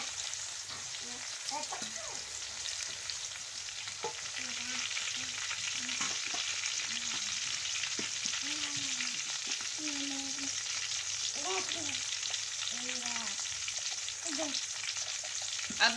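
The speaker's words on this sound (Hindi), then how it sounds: "अब हम इसमें 4 से 5 अदद हरी मिर्चें और 1 टमाटर कटा हुआ वो डालेंगे और इसको भी अच्छे से फ्राई करेंगे" Green chilies and chopped tomato fry in a masala for chana pulao, a quiet, even sizzle with occasional stirring scrapes, heard at a low level throughout without talk.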